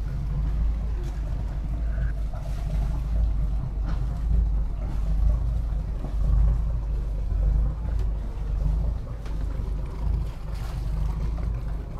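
A tourist boat carries passengers on a lake ride in Periyar National Park, Thekkady, Kerala, its engine a steady low rumble under wind and water noise throughout, with no talking.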